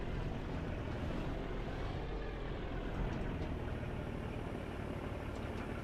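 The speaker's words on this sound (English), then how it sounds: "Playing the flight sim." A steady, broadband engine drone from an aircraft in a flight simulator game, constant and unbroken in level, with no talk over it.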